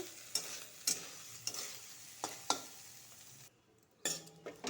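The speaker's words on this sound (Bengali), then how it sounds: "সোয়াবিনটা আগে একটু ভালো করে ভেজে নিব" Soybean chunks fry in hot oil with a steady soft sizzle, punctuated by several sharp scrapes and clinks of a spatula against the pan, with a brief quiet gap before stirring resumes.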